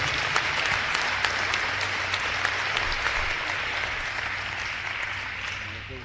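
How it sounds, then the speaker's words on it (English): Sustained applause from an audience at a shotgun sports national championship celebration, steady and dense clapping filling the whole stretch without a break. "So let's give them all a round of applause."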